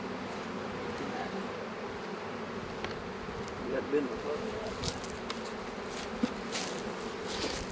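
Many honey bees on a hive frame buzz in a dense, steady drone close by, with individual insects whining louder as they pass near.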